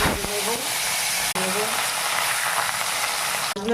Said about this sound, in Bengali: কড়াইতে তেল দেব, দিয়ে মাছগুলো ভেজে নেব